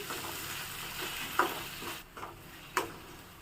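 Tomato and cashew paste fries for a curry gravy with a soft, steady sizzle, punctuated by two or three sharp spoon knocks against the pan, quiet and close.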